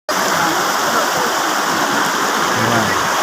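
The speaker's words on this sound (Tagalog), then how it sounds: "Pero ito talaga ang pinakamalaki na ilog dito." A broad river where people bathe rushes past with a loud, dense, steady roar of flowing water and splashing, close and constant, a faint voice briefly audible beneath it.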